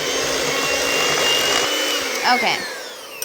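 An electric mixer whirs steadily while mixing applesauce and vanilla into cake batter, then cuts off, followed by a short spoken word and a small clink.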